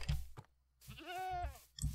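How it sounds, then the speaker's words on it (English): A goat in a video game bleats once, a wavering drawn-out cry heard clearly and close, between short bumps of game noise. "I'm gonna get bucked by that goat."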